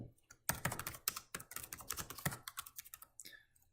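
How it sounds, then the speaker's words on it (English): Someone types on a computer keyboard, with rapid irregular clicks and clacks close up, briefly pausing between bursts of keystrokes, no speech over it. "So you can type whatever you wish in this box and hit add entry"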